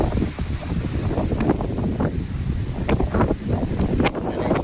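Strong storm wind with light rain on a stormy morning buffets a handheld phone microphone in steady, rough gusts and rumbles, with no talking.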